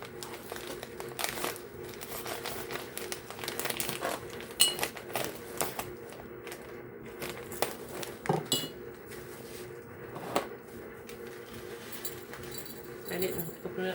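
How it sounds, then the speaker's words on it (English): A plastic food storage bag is cut open with clicky, crinkling snips and rustles, close and fairly quiet, with a voice talking over much of it. "I cut deeper into the plastic"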